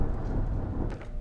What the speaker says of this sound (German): Alter Schwede, dieser Sturm draußen.